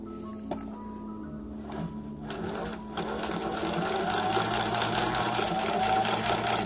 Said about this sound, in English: Now there's a sewing, and now we're ready to sew.